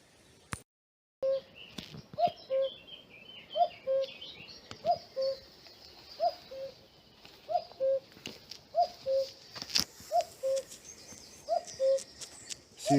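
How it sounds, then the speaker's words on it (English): Cuckoo calling from a tree at a coastal wild camp: a clear repeated two-note call at a steady, even rhythm, moderately distant against quiet outdoor background, with a few sharp knocks and no talking. "Seems you have a cuckoo in the tree."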